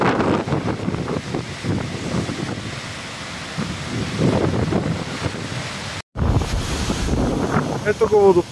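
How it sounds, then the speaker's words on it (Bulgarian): Steady roaring rush of an Icelandic waterfall, broad and continuous, with a brief dropout partway and faint voices mixed in. "Ето го водопада, дъгата,"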